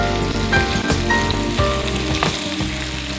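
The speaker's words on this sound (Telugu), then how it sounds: "ఓకే, ఇవి ఫ్రై అవుతూ ఉంటాయి." Boiled potatoes and carrots fry steadily in a pan, a loud, close, continuous sizzle with occasional stirring bumps.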